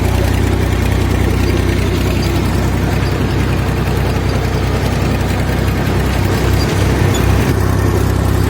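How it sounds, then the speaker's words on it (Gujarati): A homemade GPS-controlled tractor engine runs loud and close, a continuous low chugging drone with a steady rhythmic pulse and a few deeper thumps near the end, with no talking. "મિત્રો અત્યારે આ ચાલી રહ્યું છે આપણે ટ્રેક્ટર જોવો છો જીપીએસ સિસ્ટમથી જોવો"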